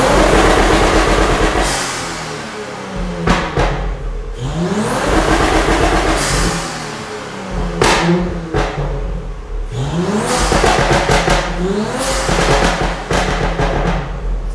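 Audi S5 B9 with a stage 2 tune revving hard in repeated bursts, the engine climbing and dropping several times, loud and close with no talk over it.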